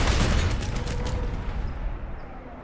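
The main gun of a Lightning light tank fires in a PS4 game, a loud booming blast close up that rolls into a fading rumble.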